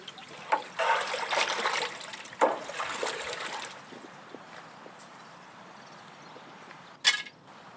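A pot of boiling water seasoned with herbs, coriander and lemon juice, ready for cooking a whole ostrich, bubbles and trickles with a few louder splashes, dense at first and then settling to a softer simmer.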